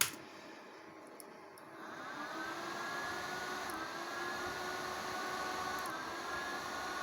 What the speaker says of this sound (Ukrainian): Періодично спрацьовують вентилятори